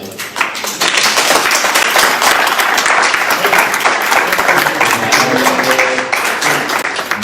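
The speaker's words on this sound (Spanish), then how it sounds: "Me gustaría que le dieran un aplauso al Señor." A church congregation bursts into loud, sustained applause, dense clapping from many hands, with a few voices calling out near the end.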